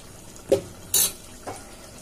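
A lid set onto a cooking pot of biryani rice and curd, heard as a few sharp metallic clanks spaced apart, close and fairly quiet, with no talk.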